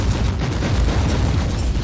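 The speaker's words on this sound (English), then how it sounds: "nice little explosion" A grenade blast in the game Warhammer 40,000: Inquisitor - Martyr roars as a loud, dense, rumbling explosion that fills the whole short stretch without letting up, with no voices over it.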